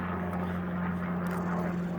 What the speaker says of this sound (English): Shake my fist at this helicopter overhead.